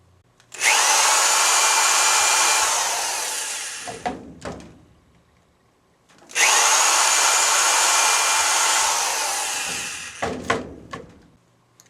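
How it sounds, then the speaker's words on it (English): Power drill boring screw holes into a clamp, two long loud bursts of steady whining motor roar, each running about three and a half seconds and ending in a few clicks and rattles, close up. "Then drill yourself some holes."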